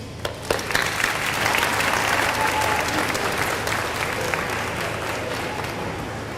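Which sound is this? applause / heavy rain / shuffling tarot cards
applause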